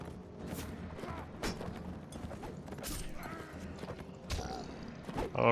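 Horse hooves pounding in a Mount and Blade: Warband battle set in Rohan, a busy rhythmic clatter mixed with creaks and battle noise, with a louder burst near the end.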